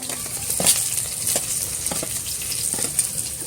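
Garlic frying in a pan for Uttarakhand kapuli, heard as a continuous close hiss with faint crackles and a few light scraping knocks, without speech.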